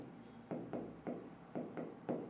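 A pen or chalk scratches a word onto a board during a Hindi-language physics lesson, in about five short, rhythmic strokes heard up close and alone.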